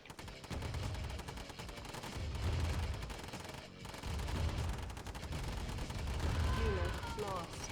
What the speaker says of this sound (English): It means I can actually keep firing and taking these guys out.